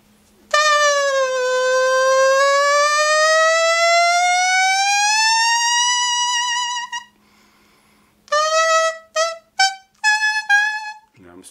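Tune blown on a tree leaf, starting with one long wavering tone that slowly rises in pitch, then after a pause a run of short, sharp, reedy notes at varied pitches, loud and close with no talk.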